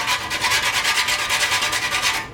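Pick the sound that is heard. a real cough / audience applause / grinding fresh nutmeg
grinding fresh nutmeg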